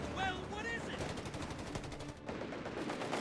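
Sniper and battlefield gunfire in the strategy game Company of Heroes 3, with dense rapid shots crackling over a loud continuous combat din, plus a brief high electronic tone early on.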